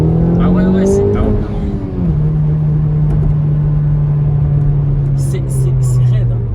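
A Honda Civic Type R engine drones steadily at a low, constant pitch while cruising on a motorway, the note dipping slightly early before settling into an even hum, with road noise underneath and no voices over it.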